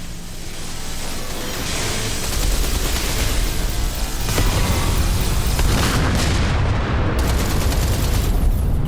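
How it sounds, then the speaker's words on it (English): Incoming torpedoes explode in Everspace 2 space combat, a dense roar of booms and rapid blasts that swells after a couple of seconds and stays loud and continuous to the end. "Torpedoes are incoming."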